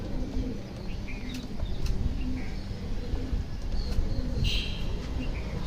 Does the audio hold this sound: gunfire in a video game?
no